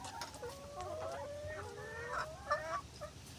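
Chickens cluck and warble softly nearby, a string of quiet rising and falling calls.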